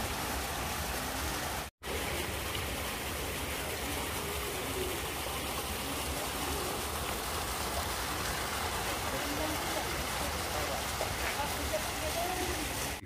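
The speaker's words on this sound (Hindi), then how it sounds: "उधर आप देख सकते हैं झरना बहता हुआ" An indoor decorative waterfall in a Bhopal shopping mall pours with a constant hiss of flowing water for several seconds, broken once by a brief dropout.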